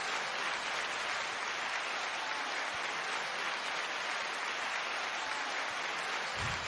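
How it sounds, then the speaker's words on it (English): A crowd applauds an invited guest with dense, continuous clapping that stays steady and even for several seconds, with no voices over it. "we gotta give a round of applause for the R.O.D."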